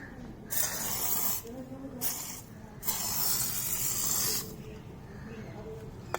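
Chain lube is sprayed onto the drive chain of a Royal Enfield Hunter 350 in several close, loud hissing bursts of about a second each, separated by short pauses.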